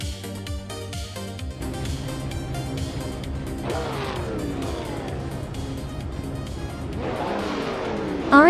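Several race cars accelerate together on the Brasilia Oval in a racing video game, engines rising in pitch with overlapping revving sweeps, loud and close, with a final burst at the end.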